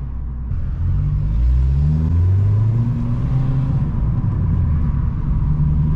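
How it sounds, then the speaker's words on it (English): A Vauxhall Corsa E with a loud aftermarket exhaust, warmed up and driving, gives a deep steady rumble with rising revs as it pulls along, close and continuous with no talking. "That exhaust is meaty when it's nice and warm."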